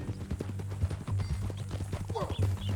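Horse hooves clip-clop at a walking pace in Red Dead Redemption 2, a steady, close, uneven rhythm of thuds with jingling tack and a brief snort, no talk during the stretch.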